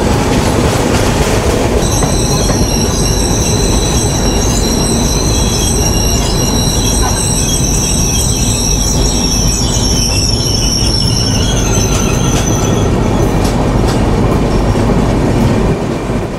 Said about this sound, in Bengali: এই ট্রেনকে আমরা অতিক্রম করে আগে চলে এসেছিলাম, কিন্তু পরবর্তীতে আবার আমরা এই ট্রেনের পেছনে পড়ে গেলাম।